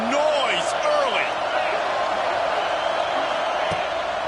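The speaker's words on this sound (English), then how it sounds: "This crowd bringing the energy and noise early." A roaring stadium crowd fills a football video game with constant loud cheering and scattered whoops, while a commentator talks over it.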